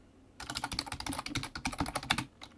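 Rapid, uneven keystrokes on a computer keyboard, close and clear, beginning after a brief pause and continuing as a steady clatter with no talking, while code is entered during C programming work.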